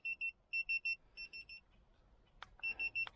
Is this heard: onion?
no